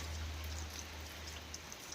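Steady rain falls throughout in a cold, wet spell, a dense even patter of drops with a low hum underneath and no voices.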